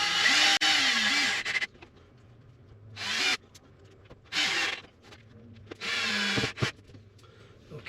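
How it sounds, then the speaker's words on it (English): A power driver screws a table base to the floor of an all-terrain Jayco caravan using reused screws, several short whirring bursts of the drill with quiet gaps and light handling noises between them, close by. "so now we screw it to the floor"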